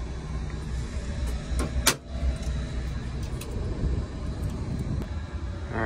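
A 30-ton Addison rooftop unit's supply fan, fitted with a new motor and blower wheel, is switched on: a steady low broadband hum and whir rises under a brief mechanical clunk, running continuously and close by.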